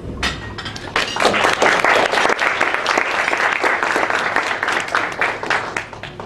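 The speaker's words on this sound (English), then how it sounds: "Hold that applause until I'm done." A room full of people at a presentation breaks into loud, sustained applause, dense overlapping claps at close range for several seconds with no talking.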